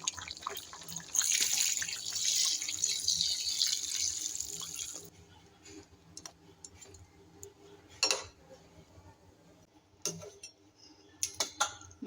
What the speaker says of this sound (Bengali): এবার আমি ঝোলের জন্য জল দিয়ে দেবো।